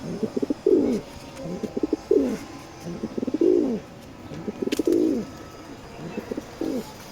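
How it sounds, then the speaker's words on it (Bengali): A pair of racing pigeons coos close by in repeated soft, throaty bursts, about five or six calls spaced roughly a second apart, with quiet background noise between them. "দুইটাই রেস করা কবুতর"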